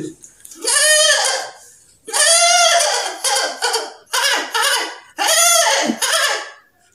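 A person imitates a goat, giving four loud, close, wavering bleats in quick succession with short pauses between them and no other sound.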